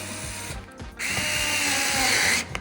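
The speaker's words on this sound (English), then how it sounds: "We want to remove these gnarly hinge screws, so I cranked it up to 7." Fantic S1 Apex cordless screwdriver on its highest setting backing out stubborn hinge screws, a close, loud whirring motor with a brief pause before spinning up again steadily, no talk.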